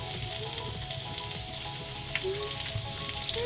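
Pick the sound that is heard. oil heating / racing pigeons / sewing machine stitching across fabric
oil heating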